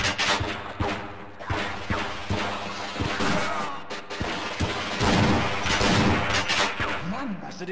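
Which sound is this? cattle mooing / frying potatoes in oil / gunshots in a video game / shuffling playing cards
gunshots in a video game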